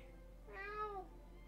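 A cat meows once, a single drawn-out rising and falling call, close and fairly quiet over a steady low hum, with no talking.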